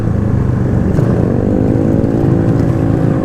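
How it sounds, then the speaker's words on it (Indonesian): A motorcycle engine with a rattling, knocking fault runs loud and close, a continuous rough drone that holds steady throughout, with no talking. "Agak ngerik sedikit di mesinnya ya."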